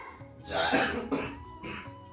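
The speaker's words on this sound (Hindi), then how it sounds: "एहू खांसत है यार, एहू सर्दी हो गया।" A single harsh, close cough with a throaty rasp, followed by a softer second hack.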